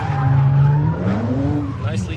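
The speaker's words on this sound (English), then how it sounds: "You want a little donut 360? right here." A Kia Stinger spins a 360 donut while drifting, its tires squealing loudly over a roaring, rising engine note in one continuous burst.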